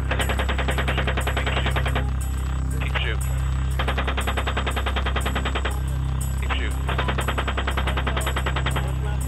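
Rapid bursts of helicopter machine-gun fire aimed at people on the ground, loud and sustained in three long volleys with short pauses between, over a constant low rotor and engine drone.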